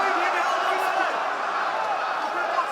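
Arena crowd at a UFC fight between Topuria and Holloway, a loud steady roar of cheering and shouting that fills the whole clip, with commentators' voices faintly mixed in.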